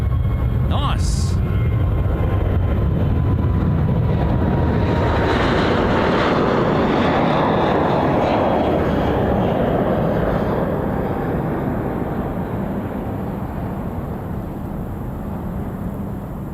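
An airliner takes off from a Sydney Airport runway, a loud broad roar of jet engines that builds and then slowly fades into the distance, with wind buffeting the microphone.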